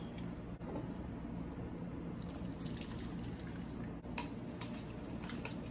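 Hot water is poured from a cup for lemon-flavored gelatin, a steady splashing, trickling stream with a few drips, heard close and alone without talk.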